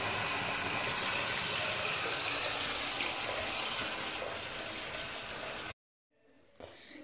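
Water gushes and splashes steadily in a holy water font, a continuous wash that cuts off abruptly near the end, followed by faint noise.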